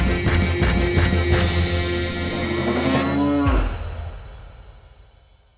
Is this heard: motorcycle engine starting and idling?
no